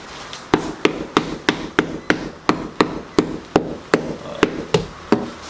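Steady hammering while installing DIY shiplap in a bedroom remodel, a dozen sharp strikes at an even pace about two per second, close and loud with no talking.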